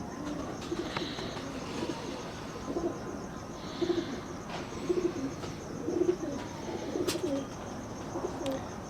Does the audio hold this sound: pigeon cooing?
yes